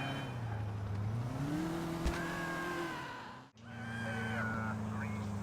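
A car drives in Grand Theft Auto 4 with a steady engine drone that climbs in pitch as it shifts and speeds up. A brief sharp knock and some squealing tones sit over it, and the sound cuts out briefly near the end.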